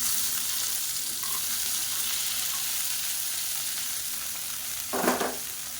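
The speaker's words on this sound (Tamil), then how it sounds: "இந்த வெண்டைக்காயை நல்லா வதக்கி எடுத்துக்கலாம்." Cut okra sautés in oil in a kadai, giving a soft continuous sizzle with a single brief scrape of stirring near the end, fairly quiet and close.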